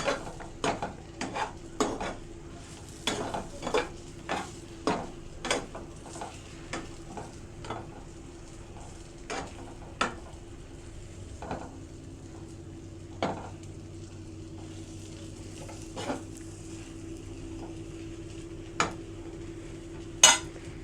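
Eggplant drops into a hot pan for a Marathwada-style salted eggplant dish and is stirred, with a steady sizzle under repeated sharp spatula scrapes and metal clinks, close, thinning out toward the end, no talking.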